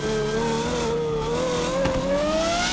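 A modded car with a loud exhaust in GTA 5 holds a close, sustained engine note that climbs in pitch as it revs, loud and alone with no talking.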